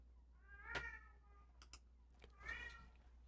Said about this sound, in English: she gets this little toy that she likes, and she starts meowing